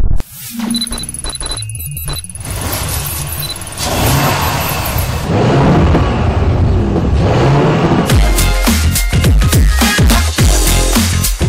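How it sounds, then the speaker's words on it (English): A Porsche Cayenne E-Hybrid's V6 engine revs loudly and steadily throughout, with a muted, sustained growl that builds and grows rougher in the final seconds. "the engine sings in a somewhat muted way"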